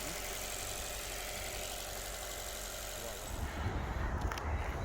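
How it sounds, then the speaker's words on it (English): An Alfa Romeo Giulietta engine runs after the car has stood unused for a while, a steady, close idle hum that gets rougher and louder near the end. "the engine's now running"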